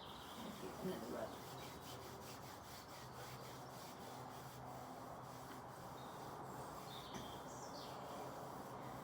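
Hands rub slowly and steadily along the legs during a restorative yoga session for tired or restless legs, making a faint, continuous, soft friction sound with no talking.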